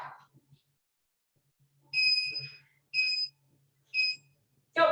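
An electronic timer for an at-home resistance loop band workout gives three sharp, high beeps, evenly spaced about a second apart, leading into a fourth tone at the end, with quiet background in between.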